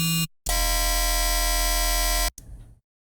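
A buzzy, harsh low-octave FM synthesizer tone, one wavetable frequency-modulating another, cuts in briefly, then holds loud and steady for about two seconds before stopping abruptly, followed by a short fading tail.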